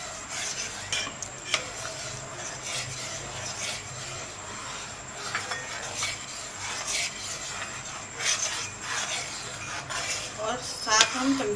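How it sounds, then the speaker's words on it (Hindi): A spoon scrapes and stirs through a pot of cooking vermicelli with custard, producing soft, continuous rubbing and occasional metallic clinks against the pan, close but fairly quiet, with no talking over it. "और साथ हम चमचा भी चलाते ही रहेंगे।"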